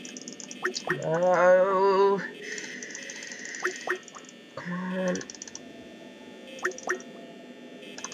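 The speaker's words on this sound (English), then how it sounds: "I don't know if you guys can hear my frantic clicking of my mouse" Frantic computer mouse clicking during a late-night Five Nights at Freddy's horror game session, sharp clicks sounding in quick irregular bursts beneath excited, strained speech and game sounds.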